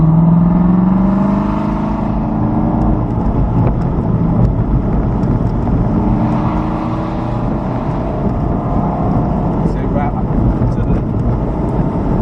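A car engine picks up as power is fed in during a cornering drill around cones, a steady rising drone with low road rumble throughout, close and moderately loud.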